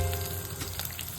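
Cumin seeds fry in hot oil, giving a brief, close, steady sizzle with faint crackles and no voices.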